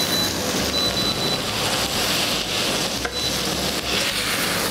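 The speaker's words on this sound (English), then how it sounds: "Okay, so I think the steak is about done." Steak pan-frying in a home kitchen gives a steady, dense sizzle that runs unbroken and fairly loud throughout, with faint scraping and shifting sounds mixed in.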